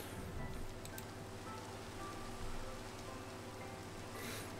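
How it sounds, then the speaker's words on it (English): Rain in the strategy video game Total War: Warhammer 3, a steady, even wash of rainfall hiss with faint patter throughout, moderately loud and alone without speech. "We can just chill out in the rain."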